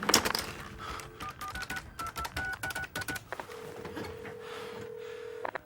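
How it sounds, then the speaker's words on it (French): Phone dialing in the Max Payne video game, a rapid run of keypad button tones and clicks followed by a long, steady ringing tone, with no speech. "il l'appelle donc au téléphone pour le prévenir"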